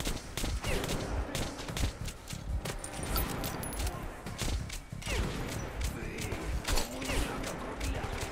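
Rapid gunfire bursts and crashes crackle through a video game running on a Linux Solus system, loud and continuous for several seconds alongside clattering effects and faint game noise, with no clear talking.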